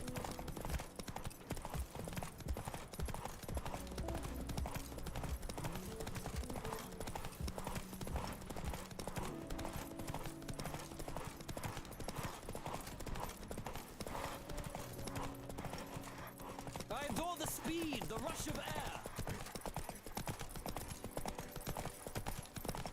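Steady rhythmic hoofbeats of a galloping horse in a video game clop on continuously, faint and even, with a brief whinny partway through.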